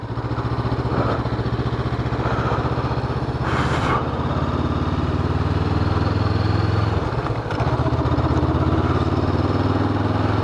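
A Honda SCL500 motorcycle is ridden at speed, its engine droning loudly and continuously beneath heavy wind buffeting on the microphone, with a brief whooshing gust midway.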